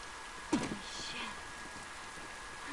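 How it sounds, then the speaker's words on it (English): Rain falling in the video game The Last of Us Remastered, a steady soft hiss of rainfall with a brief louder impact near the start. "It's raining"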